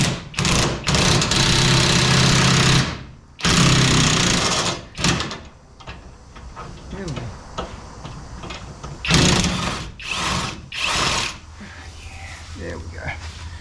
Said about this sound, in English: I'm using an impact just to make my life a little easier